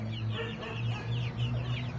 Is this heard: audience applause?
no